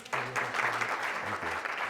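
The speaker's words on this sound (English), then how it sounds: "another round of applause for Kevin" An audience at a lecture breaks into applause, a dense patter of clapping that starts abruptly and holds steady at moderate volume, with a few voices faintly mixed underneath.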